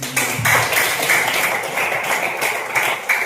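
Classroom pupils clapping in applause, a dense, steady patter of many hands filling the room for several seconds.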